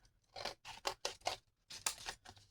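Scissors cut paper at a craft table, making a series of about eight quick, crisp snips close by in an irregular rhythm, with no voices.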